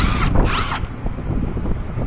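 A power tool whirs briefly, close up, tightening strut bolts on a 2013 Nissan Altima during a CV axle job, a short mechanical burst of under a second followed by low workshop rumble.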